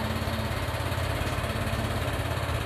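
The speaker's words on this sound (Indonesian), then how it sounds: "Oke, motor hidup." A Honda Vario 150 keyless scooter engine idles just after starting, a steady, close, low mechanical putter with an even rhythm and no voices.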